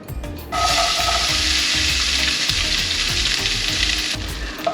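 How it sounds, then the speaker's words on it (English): Onions sizzle steadily in olive oil in a hot pan, a loud continuous frying hiss that starts abruptly and holds with faint stirring scrapes, and no talk. "We're gonna saute them until they're translucent and very fragrant."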